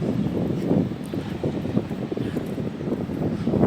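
Steady wind buffets the microphone on a breezy Benidorm hilltop overlooking a rough sea and beach, a continuous low rumbling gust noise that swells slightly toward the end, with no talking.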